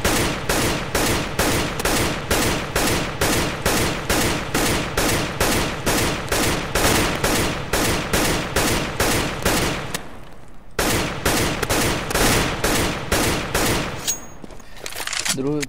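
Single AK-47 shots fire in CS:GO at a steady, rapid rhythm, each crack loud and close, continuing in an even series with a brief pause near the end before the shots resume.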